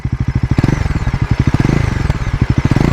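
Bajaj NS400Z single-cylinder motorcycle idling, its exhaust giving a steady, loud, close thumping pulse that stays even with no talking.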